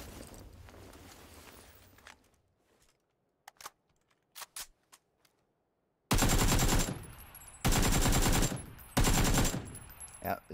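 Gunfire in PUBG, first a few scattered single shots after quiet, then three loud sustained bursts of automatic fire close by.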